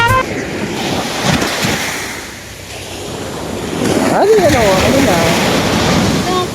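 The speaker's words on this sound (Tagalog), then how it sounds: "Grabe yung lakas ng alon." Strong sea waves at a beach, heavy surf rushing and crashing with wind buffeting the microphone, swelling louder in the second half while people talk and call out nearby.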